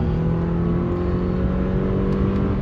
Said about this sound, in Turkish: Hadi bir gazlayalım baba